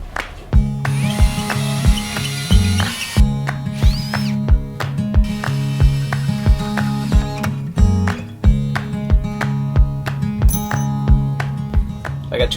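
A drill spins a hole saw through wood to cut plugs, with a steady motor whine broken by repeated rhythmic grinding pulses as the teeth bite, close and fairly loud.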